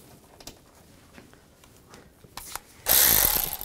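A bolt is tightened on a 1999-2006 Chevrolet Silverado 1500 washer reservoir with scattered light ratchet clicks and small knocks, then a louder, rougher mechanical rush near the end.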